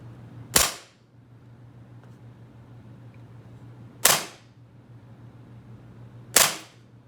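Three sharp, loud shots from a SIG Sauer M17 green gas blowback airsoft pistol loaded with 6mm 0.2 g BBs, spaced a few seconds apart over a low steady hum, with no talking.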